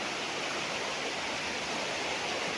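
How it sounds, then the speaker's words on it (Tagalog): A river flowing beside a farm lot in Majayjay, Laguna, makes a steady, full broadband rush of water with no pauses and no voices. "Isang magandang ilog."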